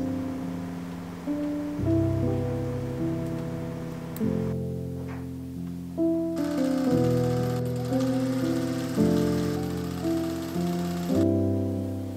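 A sewing machine stitches a twill tape drawstring casing around a dress, running in steady bursts with short pauses between them, fairly quiet and close, with no talking.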